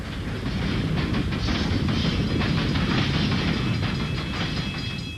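A train rumbles steadily past with a dense low roar and faint rail clatter, loud and close throughout, used as a sound effect in a radio advert for building supplies.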